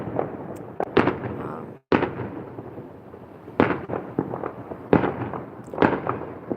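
Loud Fourth of July fireworks in a Las Vegas front yard explode in a scattered series, each sharp boom followed by crackling, with faint crowd noise between the blasts.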